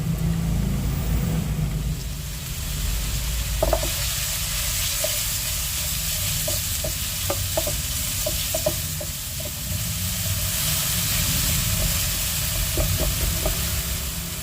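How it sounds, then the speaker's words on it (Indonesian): Ground spice paste is stir-fried in a pan, a continuous sizzle running throughout with scattered light clicks and scrapes of stirring, close and steady. "Kita tumis bumbu halus, bumbu yang telah dicop."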